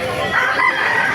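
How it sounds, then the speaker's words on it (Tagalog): A single rooster crow, loud and close at a chicken market in Baliuag, a brief strained cry held for about a second. "napakarami pa manok dito"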